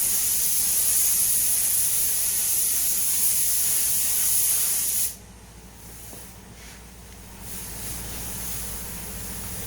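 Aerosol coating being sprayed onto a rusty wheel arch of a Ford Fiesta MK7, a loud steady hiss lasting about five seconds before stopping abruptly, leaving quieter room noise with faint bursts.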